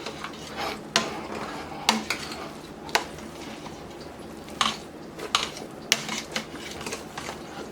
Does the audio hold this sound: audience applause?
no